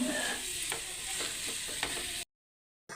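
Ridge gourd peels sizzling steadily in a hot pan while being stirred, soft scrapes and clinks over the frying hiss, cut off abruptly near the end.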